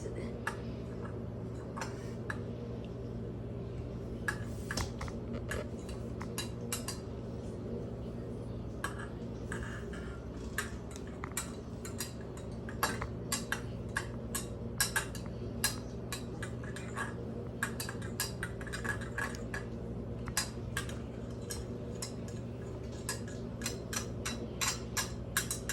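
Eggs for scrambled eggs are whisked in a bowl, with quick light metallic ticks and clinks repeating irregularly over a steady low hum; the sound is faint and fairly close.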